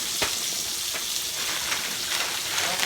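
Frozen chopped green onions sizzling in hot bacon grease in a pan, a dense continuous crackling hiss, close and loud, with no talking.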